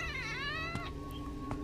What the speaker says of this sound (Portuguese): Olha, mano, é um gatinho